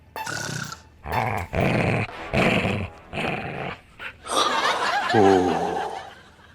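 A fierce police squad dog growls in several rough, drawn-out bursts, loud and close, with short pauses between snarls and no talk over it.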